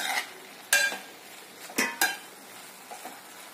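Fish curry with dried shrimp (kolim), kokum and coriander stirred with a spoon in a pan, a few scraping clinks over a low simmering background.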